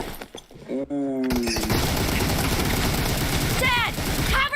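Rapid bursts of automatic gunfire in the mobile battle-royale game PUBG Mobile, loud and close, rattling steadily for several seconds after a brief lull, with a helicopter-like drone and sweeping tones layered in.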